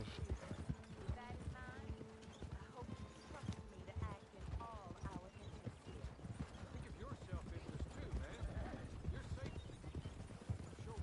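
Horse hooves clip-clop in a video game, steady and quiet beneath someone talking in French, with faint whinnies and game music in the mix.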